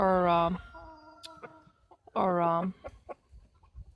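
Two loud, harmonic crows from a Silkie rooster, a couple of seconds apart, with soft clucks from Silkie hens and scattered small noises between them.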